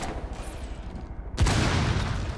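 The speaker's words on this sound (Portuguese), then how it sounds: "Esse cara dando tiro de Ashe" Gunfire from Ash's rifle in the video game Rainbow Six Siege: a sudden sharp burst of shots cuts in partway through, following a quieter stretch of game ambience, with no talk over it.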